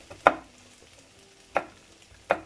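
A kitchen knife chops food against a cutting board for pastela, making three sharp, distinct knocks spaced about a second apart, close and alone with no talking.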